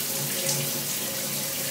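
Steady hiss of shower water running, a continuous broadband spray that stays even and fairly loud throughout with no voices over it.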